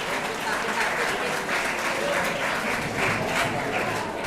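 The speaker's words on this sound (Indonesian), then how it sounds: "Aplaus untuk mereka semuanya." At a santri competition event, an audience gives a dense, steady round of applause that sounds fairly close and lasts throughout without a break.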